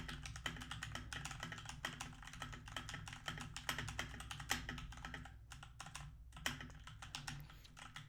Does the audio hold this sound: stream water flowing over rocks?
no